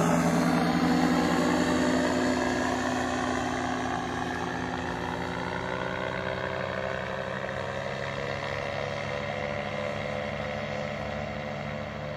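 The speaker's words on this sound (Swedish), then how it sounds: "Ja, nu är han nog på lite kort final här. Kommer ganska tajt över mig" A light aircraft on short final approach passes close overhead at Westlanda near Arvika, its propeller engine droning loudly and steadily with a slowly shifting pitch throughout, no voices heard.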